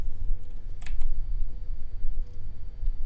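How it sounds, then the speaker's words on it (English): Computer keyboard typing in the video game Condemned, a scattering of light clicking keystrokes over a low rumbling background. "I'm typing!"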